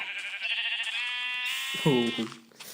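A sheep in Minecraft Pocket Edition 0.7.0 bleats in one long, wavering, nasal call that ends in a lower warble, loud and close, with game background sounds under it.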